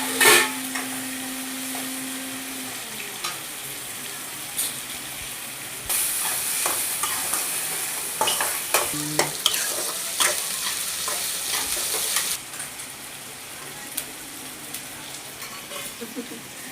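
Tomatoes sizzle and fry in oil in a pan for a ridge gourd curry, a steady close hiss with occasional stirring scrapes and clinks throughout, no voices.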